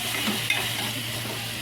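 Tomatoes fry in a pan with salt while being stirred, giving a steady, close sizzle with faint scraping underneath and no talking.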